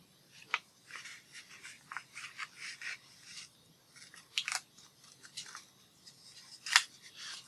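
Scissors snip through paper in a quiet craft setting, a series of soft, crisp cuts and rustles at an uneven pace, a few sharper snips standing out close up.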